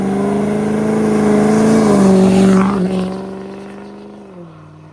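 A 2019 Chevy Silverado with the L5P 6.6 Duramax diesel revving loud and close, its deep tone climbing and holding, then dropping back to a lower idle-like rumble near the end, with no talking.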